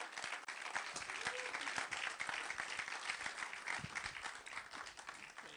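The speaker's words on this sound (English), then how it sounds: "let's give him a big, big round of applause" An audience gives a big round of applause at a Pan-African event in Ghana, dense sustained clapping from a crowd heard at a distance, steady for several seconds with faint voices mixed in.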